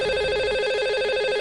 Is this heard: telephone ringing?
yes